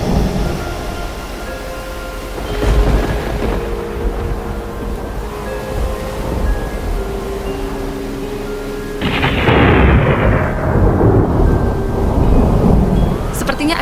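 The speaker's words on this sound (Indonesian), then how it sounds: "Sepertinya akan ada badai besar malam ini." Heavy rain pours steadily while deep rumbling thunder rolls through, swelling louder toward the end with gusty wind.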